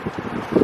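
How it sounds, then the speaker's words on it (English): Strong wind gusts on a very windy January day in California, rumbling and buffeting the microphone in loud close bursts with no other sound. "Windy day, very windy."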